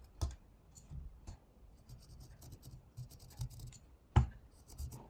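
Pencil scratching across a piece of wood while roughly sketching a lion's front profile, soft close scraping strokes in short irregular bursts with a couple of sharper taps.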